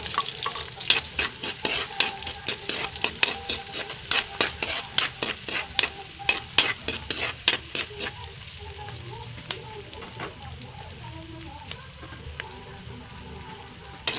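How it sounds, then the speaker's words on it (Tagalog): Onion and garlic sauté in hot oil for pork menudo, a soft sizzle under a rapid, rhythmic scraping of a spatula stirring the pan, close and steady, then easing into quieter frying. "Ilagay natin una natin ilagay yung sibuyas. Ilagay na rin natin yung bawang."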